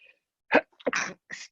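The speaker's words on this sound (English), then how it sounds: "I'm just going to sneeze really quick" A single sharp sneeze with a quick intake of breath before it, close and fairly quiet, followed by a brief sniffle.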